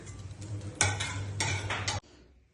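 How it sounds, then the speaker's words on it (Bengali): A spoon stirs pasta in a pan, a close run of clinking scrapes and taps over a low steady hum, ending abruptly after about two seconds. "এইভাবে পাস্তা নাড়াতে হয়, তাও আবার চামচ দিয়ে"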